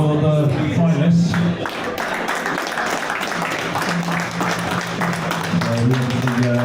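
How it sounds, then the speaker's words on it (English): An audience at a GB9 Tour pool event at Spots & Stripes Redhill applauds the finalists with steady, sustained clapping from a crowd, mixed with a voice throughout. "So everybody, quick round of applause for the finalists."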